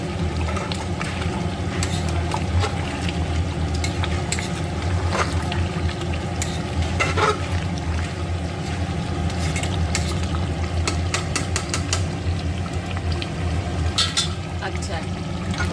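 Mutton vindaloo pieces sautéing with spices in a pan, a steady close sizzle with occasional scraping stirs and a low constant hum underneath.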